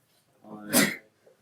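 A person sneezes once up close: a brief intake of breath builds into a sharp, explosive burst, followed by a faint sound.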